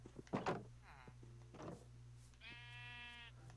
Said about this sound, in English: let's shear these sheep